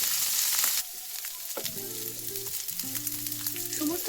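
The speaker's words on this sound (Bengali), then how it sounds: "এখানে আমি একটা ছোট সাইজের ফুলকপি একদম ছোট্ট ছোট টুকরো টুকরো করে কেটে" A small cauliflower cut into tiny pieces frying in white oil, a bright sizzle that drops after the pieces go in, then settles into steady bubbling with some tonal hum beneath, close and unaccompanied by speech.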